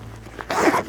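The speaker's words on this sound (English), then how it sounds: "zip it up, and be good to go." A backpack zipper is pulled shut in one quick, close rasp lasting under half a second, with no talking.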